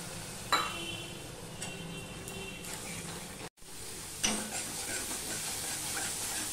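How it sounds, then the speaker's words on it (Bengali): Water hits frying masala of spices and turmeric in a hot pan for a fish curry, bursting into a sharp hiss that settles into a steady sizzle, with brief stirring clinks and a second surge of spitting after a short break. "মশলাটা কষানোর জন্য একটু জল দিয়ে দিলাম।"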